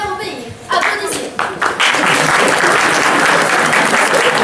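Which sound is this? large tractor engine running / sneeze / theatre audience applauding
theatre audience applauding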